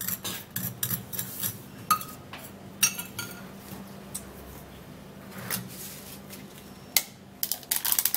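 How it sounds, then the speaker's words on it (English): Powdered hair dye ingredients being stirred in a bowl, with quiet scraping and scattered sharp clinks of a utensil against the bowl at irregular intervals, close and fairly soft. "So put in all of the powdered things first, and then you mix it up."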